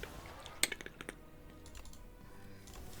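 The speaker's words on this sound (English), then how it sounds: "keyboard pitter patter." Typing on a computer keyboard, a quick patter of keystrokes and clicks that comes in a short burst near the start and then thins to a faint, scattered tapping, heard alone and quietly.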